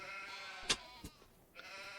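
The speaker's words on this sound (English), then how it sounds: "What's wrong with my sheep?" Sheep bleat in the farming video game Farming Simulator 25, a few short bleats heard faintly over a steady layer of game background sound, with no talk.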